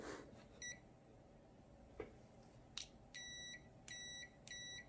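Several short continuity beeps from a digital multimeter, faint and high-pitched, the last few coming in quick steady pairs against a quiet background hum.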